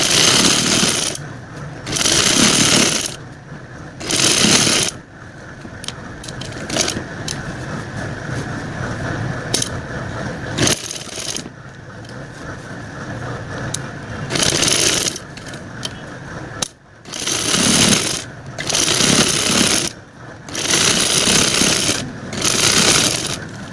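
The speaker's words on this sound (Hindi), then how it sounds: "ये देखिए यहाँ से इसे सिलाई लगाना स्टार्ट करते हैं" A sewing machine stitching a kurti, running in loud bursts of rapid mechanical chatter separated by short pauses, close up and without talk.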